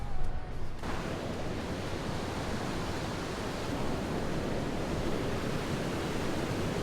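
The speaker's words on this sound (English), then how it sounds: "So there is my first view of the Niagara Falls." Steady, dense roar of rushing water from Niagara Falls, loud and continuous throughout, close by with no talking.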